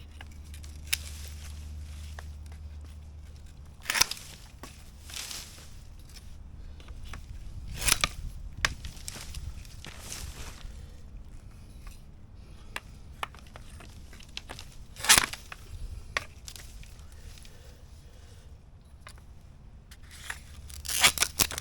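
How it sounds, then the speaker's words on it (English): Silver stripe clumping bamboo stems are cut just above the node with pruning shears, giving a few sharp, scattered snips and crunches spread over quiet background noise. "Okay, so those are cut off, and when I cut them off just above the node."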